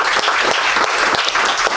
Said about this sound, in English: Yeah, another round of applause.